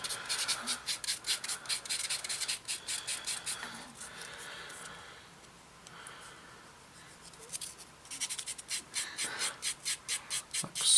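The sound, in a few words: sanding plastic model part with sponge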